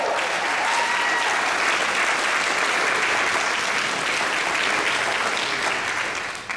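An audience gives a steady, dense round of applause for a region championship team of young men. The clapping is full and sustained from start to finish and tails off slightly at the very end.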